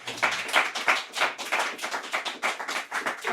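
A round of hand clapping from an audience after a presentation at an evening art and music program, brisk, close and fairly loud, with no talking over it.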